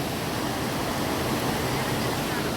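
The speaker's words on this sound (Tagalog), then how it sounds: "Grabe, ang lakas ng ulan. May thunderstorm pa." Heavy rain pours down steadily during a thunderstorm in Hong Kong, a loud, dense, unbroken hiss that fills the whole clip with no pauses.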